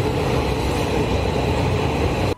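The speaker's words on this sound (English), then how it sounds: "The Athens metro currently consists only of 3 lines and hearing damage inclusive, because it's so unbelievably loud in there." An Athens metro train roars loudly and steadily inside, a dense rumbling rush of wheels and car noise that holds without a break before cutting off abruptly at the end.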